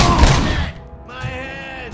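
Gunfire in the RoboCop: Rogue City video game, a loud, dense burst of shots and impacts up front that drops away into a ringing, whining tail, with no talking over it.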